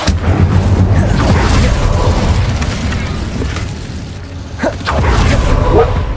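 An Incendio fire spell in Hogwarts Legacy bursts with a loud, booming whoosh of flame that rumbles on for several seconds, followed by a sharper blast near the end.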